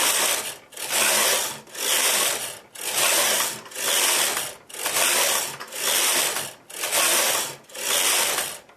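A knitting machine carriage sweeps back and forth across the needle bed while knitting rows of a fern lace pattern, each pass a loud, even mechanical whir, about nine in a steady rhythm with short gaps between.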